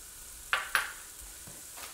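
Shallots dropped into melted butter in a clean pan set off two quick bright sizzling bursts close by, then fade to a faint simmer with a soft stir.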